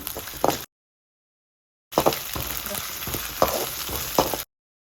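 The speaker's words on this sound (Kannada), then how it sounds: "ಇದಕ್ಕೆ 1 ಸ್ಪೂನ್ ಶುಂಠಿ ಬೆಳ್ಳುಳ್ಳಿ ಪೇಸ್ಟ್ ಹಾಗೆ 1 ಎಸಳು ಕರಿಬೇವನ್ನು ಹಾಕ್ತಾ ಇದ್ದೇನೆ." Ginger garlic paste and curry leaves fry in ghee for a Mangalorean crab sukka, giving a steady crackling sizzle with sharp pops in two bursts separated by a stretch of silence.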